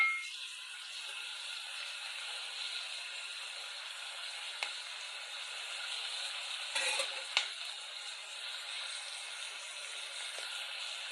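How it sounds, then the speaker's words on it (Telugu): Onion pieces, green chilli, seasoning seeds and ginger-shallot paste fry in oil, giving a continuous soft sizzling hiss with a few faint pops and stirring clicks, and no talking. "పెద్దల్లిపాయ పీసెస్, పచ్చిమిర్చి, పోపు మసాలా సీడ్స్, అల్లం చిన్నుల్లిపాయల పేస్టు అన్నీ ఏ విధంగా ఆయిల్లో ఫ్రై అవుతున్నాయండి"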